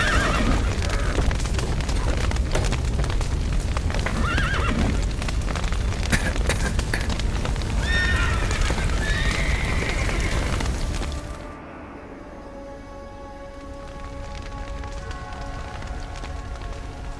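Horses in The Witcher 3 neighing and whinnying repeatedly over loud galloping hooves and busy game noise, the commotion dropping off abruptly near the end to a quieter ambient bed.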